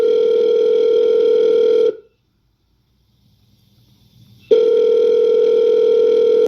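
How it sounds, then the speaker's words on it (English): A telephone tone drones loud and steady on the line, cuts out into near silence for about two and a half seconds, then resumes, like a phone ringing through when calling a friend. "let's phone Harry's friend"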